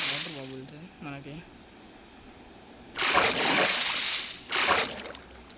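Bubbly splashing water in the Minecraft survival video game, two loud bursts of underwater bubble noise in the second half after quieter watery movement, with a short tonal game sound near the start.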